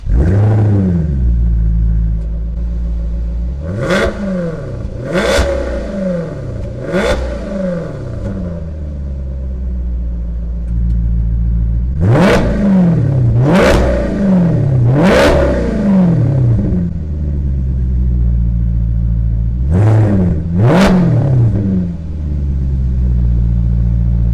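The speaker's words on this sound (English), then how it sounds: "I'm gonna lower the window so you guys could hear the exhaust a little bit, because it does sound super nice." A 2019 Maserati GranTurismo in sport mode, exhaust heard through a lowered window, loud and close, revving repeatedly in sharp rising bursts over a steady rumbling idle, with no talking.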